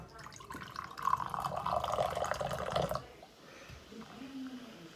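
A can of Monster Energy drink fizzes and pours for about three seconds, a bright hissing stream of carbonated liquid, then settles to a faint quiet fizz.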